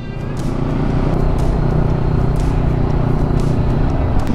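A motorcycle engine on a ride to Jariels Peak in Infanta, Quezon, running as a steady loud droning hum with a slight rise in level early on, close and continuous.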